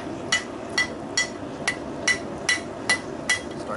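A hammer flattens red-hot metal at a home workshop forge, striking in eight sharp, evenly spaced ringing blows close to the mic with no talking.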